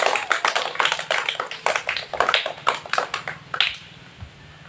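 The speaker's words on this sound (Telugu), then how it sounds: "అందరు గట్టి కొట్టాలి చప్పట్లో." Audience applause at a school Independence Day celebration, many hands clapping steadily and loudly at close range, then thinning and fading out near the end.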